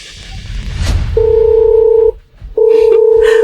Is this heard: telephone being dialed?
yes